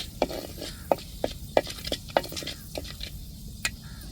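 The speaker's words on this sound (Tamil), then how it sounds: "வெந்தயம் நல்லா பொரியட்டும் பொரிஞ்சதுக்கப்புறம் நம்ம வெங்காயத்தை சேர்த்துக்கிடுவோம்" Fenugreek seeds fry in hot oil for a prawn, crab and fish kuzhambu, giving a soft, quiet sizzle under a string of sharp, evenly spaced taps and scrapes from a spoon stirring the pan.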